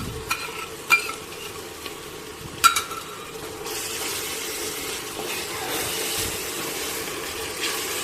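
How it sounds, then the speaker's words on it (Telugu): Onions frying with ginger garlic paste in a pan for a spicy chicken gongura dish: close, steady sizzling with a few sharp clinks and scrapes of stirring early on, then a continuous hiss. "అల్లం వెల్లుల్లి పేస్ట్ వేసుకున్నాక పచ్చివాసన పోయే వరకు ఫ్రై చేసుకోవాలి"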